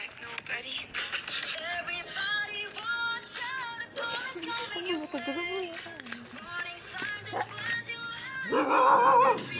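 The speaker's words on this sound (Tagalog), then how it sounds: "Yan guys, may aso." A dog barks and yips repeatedly amid people talking, with the barking fairly close and mixed with background noise.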